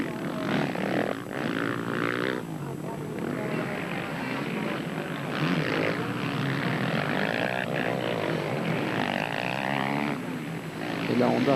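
Honda motocross bikes race in an MX1 event at the 2004 European motocross Grand Prix, their engines a steady, distant drone that runs throughout beneath a commentator's voice.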